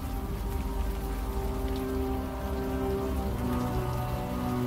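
Steady rain falls in the video game Unavowed, a dense, even hiss of drops on surfaces that holds constant from start to finish with no voices.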